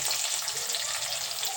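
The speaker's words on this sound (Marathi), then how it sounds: "कांदा घालून घेऊ" Onion hitting hot oil with whole spices, a steady dense sizzle and crackle of frying that holds loud and close without a break.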